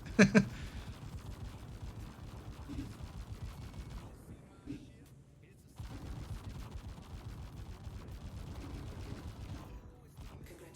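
The Buccaneer spaceship in Star Citizen fires its guns in rapid, quiet bursts of repeated shots, with brief gaps between volleys.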